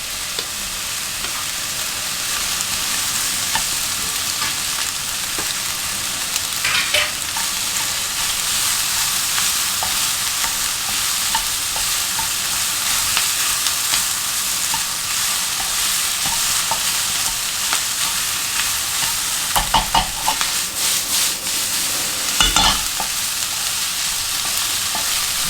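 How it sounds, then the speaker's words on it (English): Luncheon meat frying with aromatics for egg fried rice, a loud unbroken sizzle that carries on for a long stretch, with occasional scrapes and knocks of stirring near the end. "You'll add in the luncheon meat to fry up a bit."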